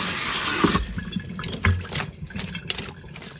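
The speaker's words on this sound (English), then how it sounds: "run the cold water" Cold tap water runs from a faucet into a kitchen sink, a steady close splashing gush that shifts in tone as it hits the basin, with no talking.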